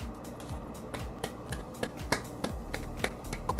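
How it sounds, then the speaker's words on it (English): A livestream host snaps fingers repeatedly, crisp close snaps at an irregular quick rhythm, sometimes doubled, over a quiet room with no speech. "Snaps and claps."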